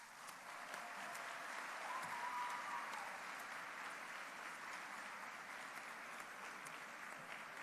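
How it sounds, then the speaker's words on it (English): An audience at the Willem C. Vis East International Commercial Arbitration Moot final round applauds the finalists, a steady, even wash of clapping from many hands that holds at a constant level for the whole stretch. "Now you can clap."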